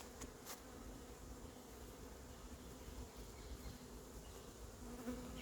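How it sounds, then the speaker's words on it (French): Steady, close insect buzzing from a hornet attacking beehives in an apiary, a continuous drone with faint higher whine, no talking over it. "Je vois toujours le frelon qui attaque sur l'autre ruche."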